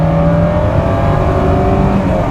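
A 1977 Volkswagen Golf GTI Mk1 with an 8-valve, 110-horsepower engine and long gearing pulls steadily under acceleration, its engine note droning loud and close for the whole stretch, with no talk over it.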